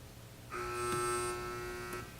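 A quiz competition buzzer sounds once, a single loud electronic tone lasting about a second and a half, standing out clearly against a quiet room hum.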